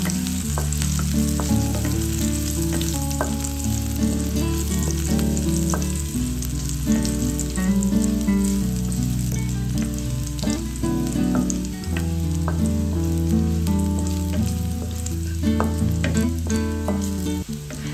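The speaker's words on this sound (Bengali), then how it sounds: "এবার আমরা পেঁয়াজ কুচিটা দিয়ে দিলাম। একটু ভালো করে নেড়ে নিতে হবে, নয়তো পেঁয়াজটা পুড়ে যাবে।" Chopped onion sizzles and fries in a hot pan while being stirred, a steady crackling hiss with occasional scraping, over a continuous low musical background and no talking.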